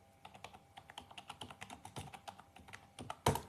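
Rapid clicking of keys on a computer keyboard, a quick irregular run of crisp taps close by with one louder stroke near the end, no voices.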